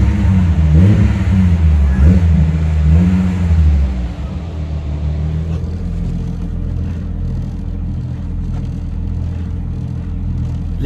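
A Volkswagen VR6 engine with an upgraded intake revs hard, rising and falling over the first four seconds, then settles into a steady rumbling idle, close and loud, with no talking.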